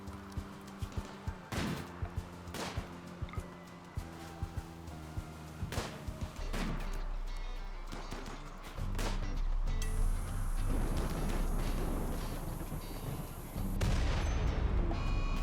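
Mortar fire and explosions in the RimWorld video game: repeated sharp booms and thuds at irregular intervals, followed by a sustained rumbling blast with a high whine, moderately loud and with no voices.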